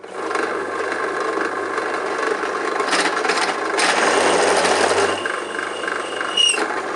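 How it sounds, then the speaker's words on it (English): A pillar drill bores into metal with a steady motor whine under a coarse, grinding scrape of the bit cutting, growing rougher midway and easing toward the end, close by with no talk. "Let's try and drill it a little more correctly."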